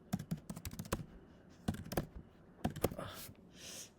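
Clicking keystrokes on a computer keyboard come in quick bursts separated by short pauses, faint and close by, with no talk over them.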